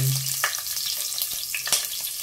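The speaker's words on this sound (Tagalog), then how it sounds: "So, magigisa na tayo." Sautéing in a pan with sizzling frying under steady stirring, a low hum at the very start and a few scraping clicks of a spoon against the pan, no talking.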